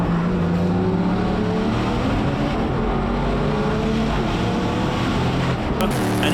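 The 131 Cobra race car roars past at Dezzi Raceway during a Backdraft four-hour endurance race, a loud sustained engine drone with shifting pitch.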